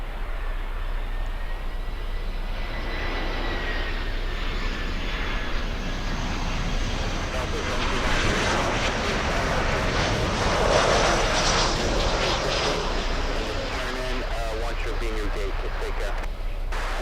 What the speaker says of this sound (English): Cathay continuing its pushback.